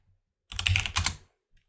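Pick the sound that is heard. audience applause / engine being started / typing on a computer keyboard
typing on a computer keyboard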